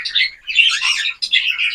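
A young bird with splayed legs gives rapid, high-pitched chirps in two bursts separated by a short pause, close and clear with nothing else audible.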